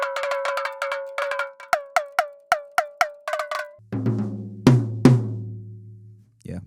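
A tom drum struck repeatedly during tuning, first in quick bursts of ringing hits with a clear pitched tone, then lower, deeper thuds with a longer resonance near the end; close, loud and without talk.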